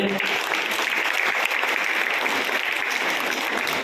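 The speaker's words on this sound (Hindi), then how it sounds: "जोरदार तालियों से" Loud, sustained applause from an audience welcoming a guest at a consumer day event at an education institute in Bikaner, continuous dense clapping throughout.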